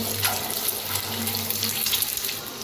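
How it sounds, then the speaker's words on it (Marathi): Eggs fry in oil in a pan for an Indian restaurant-style egg curry, giving a steady close broadband sizzle with a faint low hum beneath, no talk. "आता छान अंडे फ्राय व्हायला लागलेत बघा"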